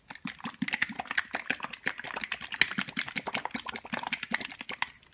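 A cup of pouring medium mixed with acrylic paint being shaken hard, giving a dense run of rapid rattling knocks and sloshes, close and loud, continuing steadily throughout with no talking.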